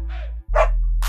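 A puppy's bark used as a read-along sound effect: two or three short, close yips with a brief pause between them, heard alone.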